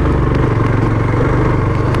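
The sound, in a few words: motorcycle being ridden on rural road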